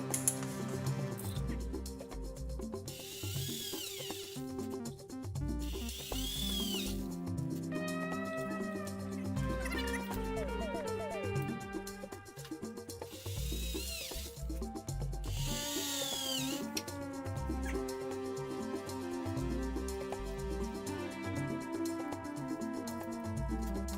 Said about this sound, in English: Let's get these holes drilled.